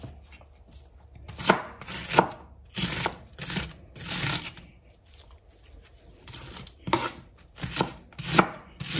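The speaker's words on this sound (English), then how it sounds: "I'm impatient when it comes to chopping vegetables." A knife chops vegetables on a board in a home kitchen, giving close, crisp bursts of quick strokes in irregular clusters with short pauses between.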